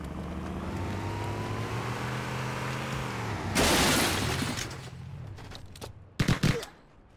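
Gunfire in the video game Halo CE: a burst of loud shots mid-clip followed by a few sharp cracks near the end, over a humming background.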